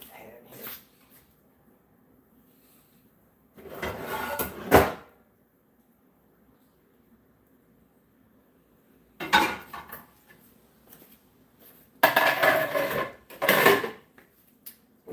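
Small pan pulled from a kitchen cupboard, giving a few separate bursts of clattering cookware and cupboard knocks with quiet pauses between them.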